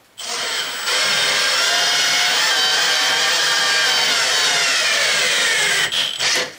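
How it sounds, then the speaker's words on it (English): A high-pitched power drill whines steadily for several seconds during a camper van build, loud and close, then cuts off abruptly near the end with a brief sputter. "and then we drill it."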